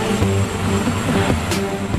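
Helicopter hovering over a suspension bridge tower during construction, a steady, loud rotor and engine drone with a faint rhythmic chop, continuous throughout.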